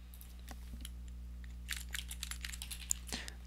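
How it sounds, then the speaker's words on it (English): Fairly quiet computer keyboard typing, scattered keystrokes followed by a quicker run of taps, heard near the mic over a steady low electrical hum. "Let's just type YouTube."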